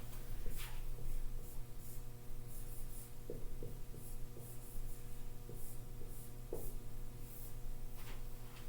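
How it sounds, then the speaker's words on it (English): Writing on a board, with soft, scratchy strokes and taps coming in irregular short bursts over a steady low hum of the room. "I'll actually write."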